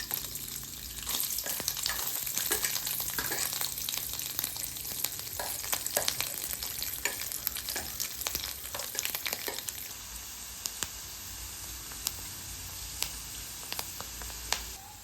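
Grated coconut fries in hot oil in a pan for traditional unniyappam, a bright crackling sizzle with scattered pops and stirring scrapes, busier at first and easing toward the end.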